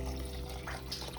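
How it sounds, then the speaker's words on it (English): Tap water runs steadily into a pot of split pea soup on a home kitchen stove, a continuous close splashing hiss with no talking. "Add water to the top."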